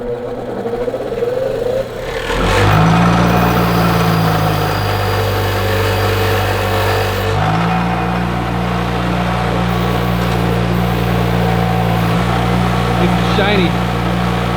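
A wire wheel spins up and grinds against metal being cleaned before welding on a Ferrari 348, a steady loud whirring drone lasting several seconds, with a shift in tone midway.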